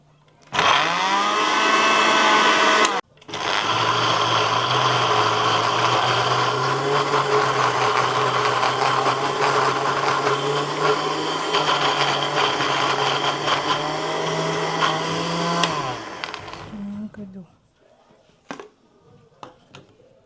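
A kitchen blender finely chops mushrooms, running loud and steady with a high whining motor for about fifteen seconds after a brief start and short pause, then spinning down into quiet with a few small clicks.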